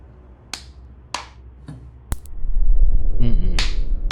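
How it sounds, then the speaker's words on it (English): Sharp, isolated hand claps ring out close and crisp, spaced about half a second to a second apart, over a quiet room that later fills with a low rumbling background. "You have to clap twice."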